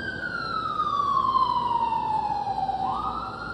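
An ambulance siren passing by: a loud, steady wail that glides slowly downward in pitch as it goes past, with a faint rumble of traffic beneath it.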